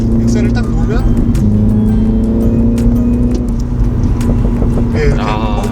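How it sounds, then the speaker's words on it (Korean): A 2019 Mini John Cooper Works exhaust pops and crackles after the throttle is lifted, with bursts scattered over a steady, close engine drone while a person talks throughout. "이렇게 뻥뻥뻥뻥뻥뻥 노면 소리 아닙니다. 네, 배기음이고요."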